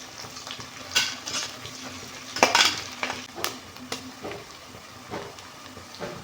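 Onions frying in a pan with salt for palak rice: a soft sizzle broken by several louder spatula scrapes and stirs, close and uneven, no voices.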